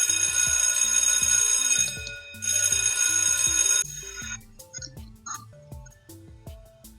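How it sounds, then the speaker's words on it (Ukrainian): A bright electronic school bell chime blares with a repeating tonal melody, then gives way to a light, bouncy musical tune; no speech. "Чуєте? Дзвенить дзвоник."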